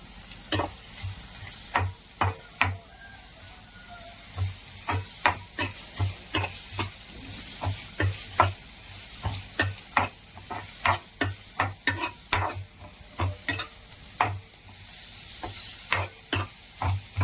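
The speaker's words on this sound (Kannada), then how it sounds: "ಈಗ ನಾನು ನೀರುಳ್ಳಿ ಹಾಕ್ತಾ ಇದ್ದೇನೆ. ಇದು ಚೆನ್ನಾಗಿ ಫ್ರೈ ಮಾಡಬೇಕು ನಾವೀಗ" Onions dropped into hot oil for a spicy chicken pulimunchi, a steady sizzle broken by a run of sharp, regular clinks and scrapes of a spoon stirring the pan, close up and with no voices.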